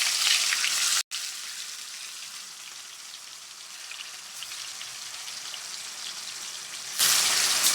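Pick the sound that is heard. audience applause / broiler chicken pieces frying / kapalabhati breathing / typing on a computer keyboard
broiler chicken pieces frying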